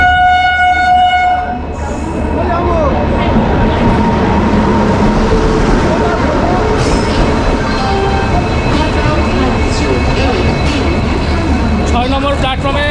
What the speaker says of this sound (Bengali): প্ল্যাটফর্মে আমাদের দার্জিলিং মেল ঢুকিয়ে দিয়েছে